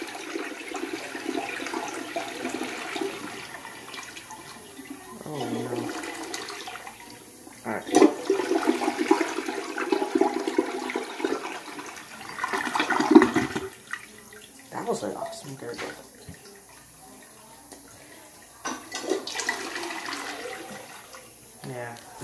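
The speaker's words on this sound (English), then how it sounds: "It's time to flush. This is a Cisa toilet with no brand." A 1997 Cisa toilet with no brand flushes with its lever held down, a long rushing swirl of water that rises, gurgles and drains over about twenty seconds, with brief speech-like bursts mixed in.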